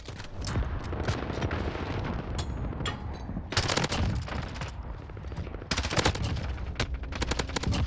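A P90 fires in Call of Duty Modern Warfare: rapid automatic bursts crackle loudly and close, with dense repeated shots broken by short gaps and other gunfire mixed in.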